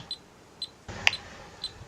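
Short electronic beeps from a shed alarm keypad entry delay repeat at a steady interval of about half a second, fairly faint, with a brief clunk midway.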